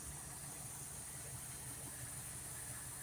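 A car engine idles steadily after timing and carburetor adjustment, a close, even low rumble with a faint rhythmic pulse, running alone without talk.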